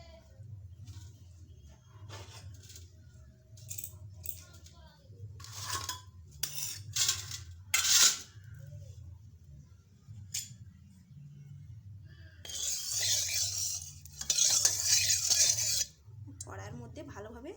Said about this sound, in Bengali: কড়ার মধ্যে ভালোভাবে তেলটা চালিয়ে নিচ্ছি